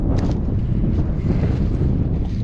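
Strong wind buffets the microphone in a constant low roar, loud and gusty with no voices.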